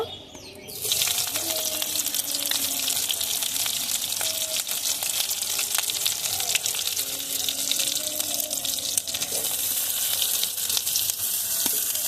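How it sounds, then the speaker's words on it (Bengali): About a cup of chopped onions frying in hot oil in a pan, a steady, fairly quiet sizzle that starts abruptly and continues evenly throughout, with faint clinks and stirring. "পেঁয়াজ কুচিটা ভালোভাবে ভেজে নেব।"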